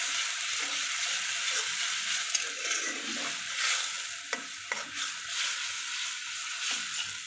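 Spice paste for hilsa fish curry frying steadily in a pan: a continuous close hiss and sizzle with occasional soft scrapes and knocks from stirring, no voices.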